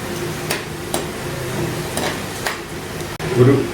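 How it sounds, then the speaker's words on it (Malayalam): Ingredients for Kerala-style mango pickle are sautéed in a pan, with a low sizzle broken by regular scrapes and taps of a stirring spoon and a louder clatter at the end. "അത് നല്ലതായിട്ടൊന്ന് ഇളക്കി വഴറ്റി കൊടുക്കുക"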